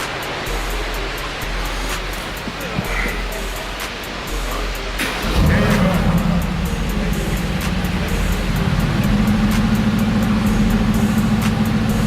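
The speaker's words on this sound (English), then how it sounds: "Let's start the car." A car engine catches at about five seconds and then runs in a steady, loud idle, with broadband noise before it and no speech over the running engine.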